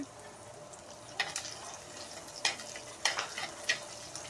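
Onions sautéing in a pan for a sardine (mathi) fish curry, a steady hiss with a handful of sharp spatula scrapes and clinks spaced across the clip.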